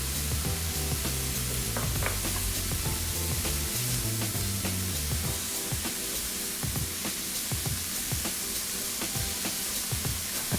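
Mushrooms and minced garlic fry in a hot pan with a loud, constant sizzle, broken by the scrape and clatter of stirring throughout.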